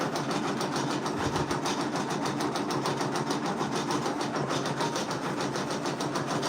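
An embroidery machine stitches a design at a fast, steady mechanical rhythm, with an even, close whirring clatter of needle strokes throughout and no voices.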